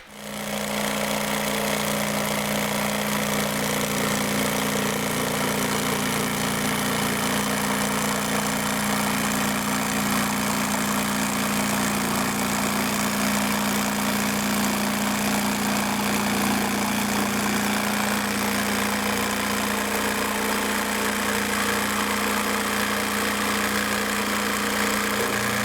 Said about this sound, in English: I'm simply going to cut this out with the jigsaw